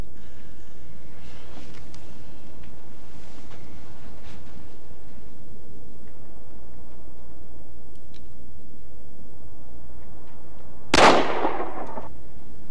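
A single revolver shot is fired at a target on an indoor range, a sharp loud crack near the end that follows a long stretch of near silence, with no talk around it.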